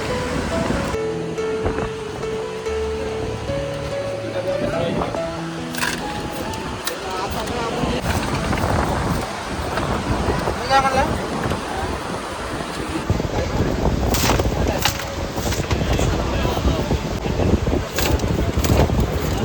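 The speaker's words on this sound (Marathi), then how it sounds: "आता हवा खूप सुटली आहे" Strong wind and breaking sea waves at Harnai fishing harbour during the monsoon, a steady loud roar of surf and gusting wind across the whole stretch, with people talking nearby and boat activity mixed in.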